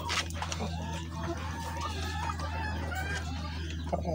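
Chickens cluck and a rooster calls on a poultry farm, a busy overlapping chorus of birds heard close by over a steady low hum, with a voice talking faintly in the background.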